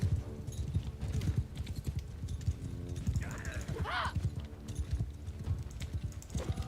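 Horse hooves gallop in the medieval combat game Mount and Blade II: Bannerlord, a rapid, steady clip-clop rhythm throughout with brief battle clashes and mechanical noises over it.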